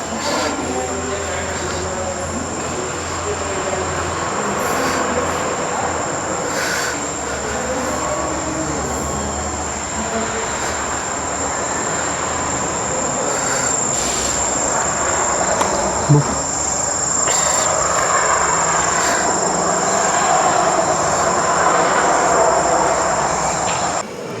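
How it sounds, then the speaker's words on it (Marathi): A train rumbles steadily into Sangameshwar railway station, with a continuous mechanical drone and a high whine, joined by the chirping of insects nearby. "ट्रेन आलेली आहे"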